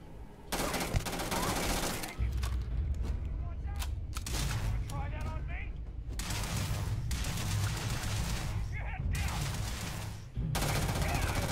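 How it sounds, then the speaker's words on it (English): Rapid gunfire from the space shooter game Starfield, dense bursts of shots crackling almost continuously at close range with a couple of short breaks, mixed with game effects and a voice speaking over it. "Let me get some shots in first."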